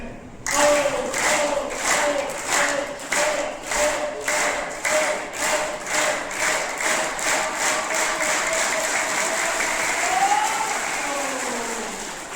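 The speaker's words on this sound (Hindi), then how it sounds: "मेरे साथ ओम की ध्वनि के ऊपर ताली बजाएंगे।" Students at a school clap together in unison along with a sustained Om chant, sharp regular claps in a steady beat that gradually speeds up, the long chanted tone running underneath.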